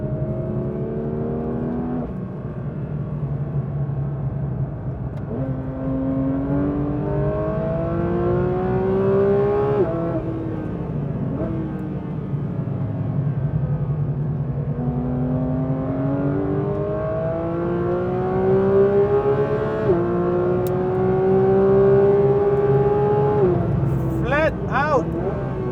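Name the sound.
Porsche 911 GT3 engine accelerating through corners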